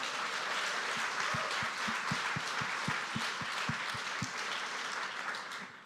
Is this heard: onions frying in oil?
no